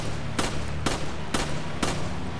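Four sharp gunshots crack at a regular, slightly spaced rhythm in Resident Evil 5 as a player fires at a small bomb, loud and close over a low constant game drone, with no talking.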